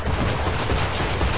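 Cannon fire in the video game Assassin's Creed 3 rumbles as dense, continuous booming and crackling battle noise, loud and steady throughout with no clear gaps; no voices.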